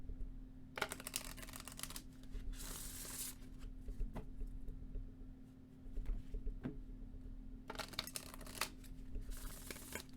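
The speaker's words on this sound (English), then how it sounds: "let me shuffle the Camelot Oracle." Cards of a Camelot Oracle tarot deck are shuffled by hand in repeated riffling bursts of crisp paper flutter with short pauses between, close and fairly quiet over a steady low electrical hum.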